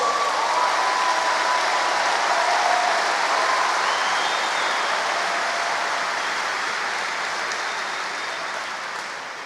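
Sustained, dense applause from a large audience at a church conference, loud and steady throughout and only slowly tapering toward the end, with no speech over it.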